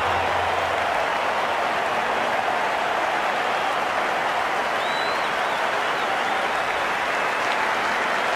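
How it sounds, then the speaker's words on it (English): A large cricket Test match crowd applauds continuously, a dense roar of clapping and cheering that stays loud and even throughout, with faint whistles poking through. "The crowd on their feet."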